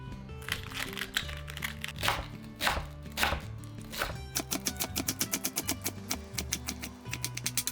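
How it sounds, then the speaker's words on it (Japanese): A knife finely shreds washed cabbage on a cutting board, starting with slower single chops and then speeding into a fast, even run of crisp, crunchy cuts, close and clear with no speech. "キャベツをきれいに洗って千切りします。"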